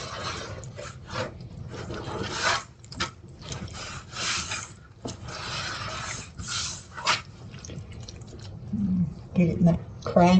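Bare hands rub and squish seasoning into raw chicken breast for air frying, producing soft, wet, irregular smearing bursts close by, with brief pauses between strokes.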